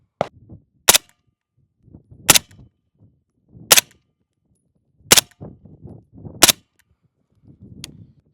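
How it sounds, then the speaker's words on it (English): Suppressed AP5-SD submachine gun firing supersonic ammunition, six sharp, loud single shots spaced roughly 1.4 seconds apart, each with a cracking report, with faint mechanical handling noises and shuffling between them. "Let's try the AP5-SD with the supersonic ammunition."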